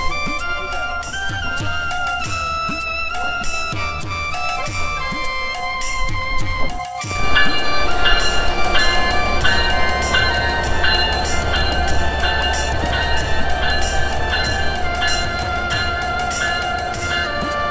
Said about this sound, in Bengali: ট্রেনটা প্ল্যাটফর্মে প্রবেশ করছে